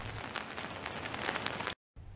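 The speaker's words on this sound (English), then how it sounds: "raining again." Rain pours down steadily over vegetable crops, a dense hiss of drops drumming on surfaces, loud and unbroken until a sudden short cutout before resuming.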